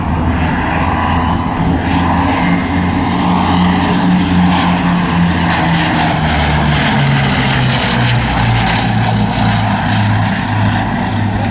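A Bristol Blenheim IF light bomber's twin propeller engines drone loudly at Southport Airshow, the pitch slowly falling as it passes, with a commentator talking over the engine noise.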